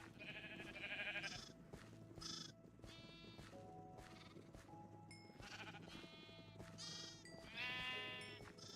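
Repeated sheep bleats from the Minecraft video game, several short nasal calls in a row over a steady background, clear and fairly close.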